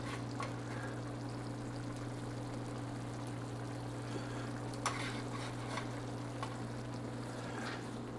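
An egg fries in a pan, a faint, steady sizzle and crackle under a constant low hum, with occasional small pops.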